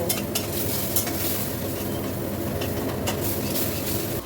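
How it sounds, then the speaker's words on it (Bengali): Masala is stirred and fried hard in a pan on high flame for a simple home lunch, a dense, loud, continuous sizzle with occasional spatula scrapes and taps, close by, with a low rumbling background. "মশলাটাকে খুব ভালো করে কষিয়ে নিচ্ছি"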